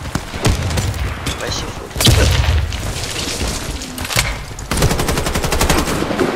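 In the online shooter Warface, heavy automatic gunfire chatters throughout, with a deeper booming grenade blast about two seconds in, while a player's voice briefly cuts through the noise.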